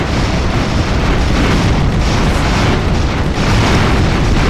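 A dense, continuous barrage of booming explosions from the steampunk airship battle game Airships: Conquer the Skies. The blasts pile into a loud, unbroken roar with no pauses between them.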